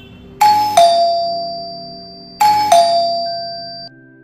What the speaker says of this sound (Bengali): কলিং বেল বেজে উঠল, কে এলো চলো দেখি।